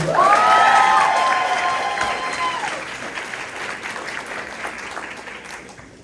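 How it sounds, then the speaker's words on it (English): Applause and cheering at a Mr. Ross Spring pageant for the Pink Panthers, opening with loud whoops and shouted cheers over clapping, then settling into steady clapping that gradually fades. "So let's give them a round of applause."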